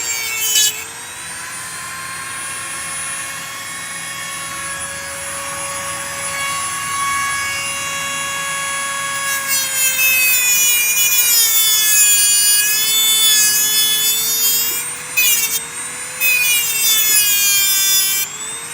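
A Dremel rotary tool cuts old cable that has grown into an outdoor cactus, giving a loud, sustained high whine whose pitch wavers and dips as the bit bites in, with no talk.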